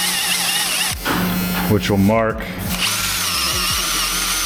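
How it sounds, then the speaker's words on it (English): A power drill runs steadily through metal with a 13/64 drill bit, a continuous whine with a brief pitch change midway as the bit bites, while someone talks over it. "I'm gonna drill through this now with a 13/64 drill"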